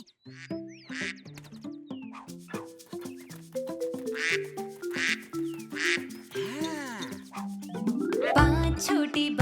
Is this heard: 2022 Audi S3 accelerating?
no